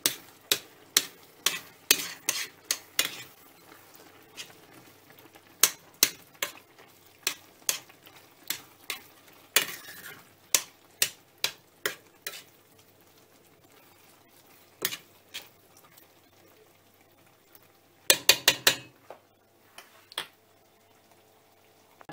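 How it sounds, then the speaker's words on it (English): Vegetarian shepherd's pie filling is stirred in a pan, making a steady run of sharp, close spoon taps and scrapes against the pan, with a quick cluster of clatters near the end and no talking. "Right, stir it again."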